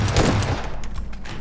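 A short, loud burst of rapid video game gunfire, several shots fired close together in a fusillade, with no talking.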